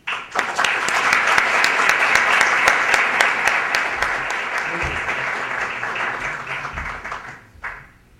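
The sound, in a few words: audience applause welcoming a speaker to the podium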